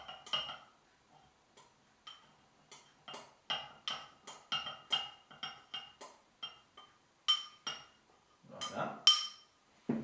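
Sourdough starter is stirred in a small container, a faint run of quick clinks and taps of a utensil against the sides in an uneven rhythm, alone without talk.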